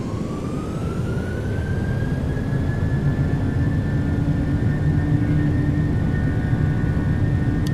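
Twin jet engines of a PMDG 737-800 in Microsoft Flight Simulator spooling to takeoff power, a steady loud broadband roar with a rising whine that climbs and then holds, continuous with no talk.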